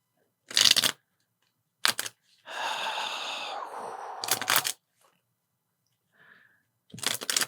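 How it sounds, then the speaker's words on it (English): Tarot cards being shuffled in short bursts: brief crisp riffling flurries separated by pauses, with one longer steady rustling stretch in the middle, close and fairly quiet. "I'm just still shuffling."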